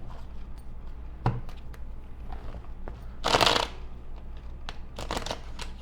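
Crisp riffling bursts of cards being shuffled, one short snap followed by a longer fluttering shuffle and another, close up with no talking.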